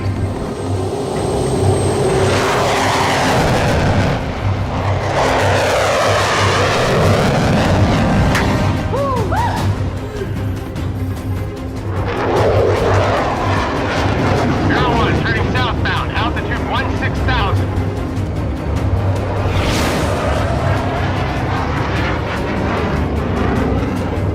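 Aircraft engine in the Alien Convergence video game swelling into a loud, sustained roar that rises and surges in waves, with rumbling low end and bursts layered over a dense game soundscape.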